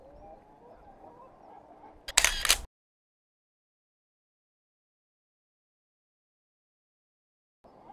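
A camera shutter clicks once during a sea fishing trip, a short, bright burst after faint background noise, followed by a long silence before quiet ambience returns.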